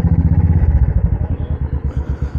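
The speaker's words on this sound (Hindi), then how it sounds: "और ये रही हमारी शांताराम भाई की बाइक" A motorcycle engine idles close by with a steady, pulsing low thump, loud and even throughout with no talking over it.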